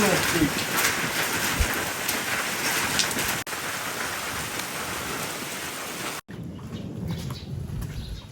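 Heavy rain pours down steadily on a wheat harvest in a dense, continuous hiss, briefly cutting off twice before continuing more softly.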